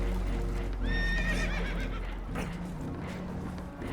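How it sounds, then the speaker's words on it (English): A spooked horse in Red Dead Redemption 2 lets out a loud, shrill, quavering whinny, then a second rougher snort. Hooves shuffle and clop under a constant low rumble of water and boat noise. "Horses are spooked, and we're taking on water."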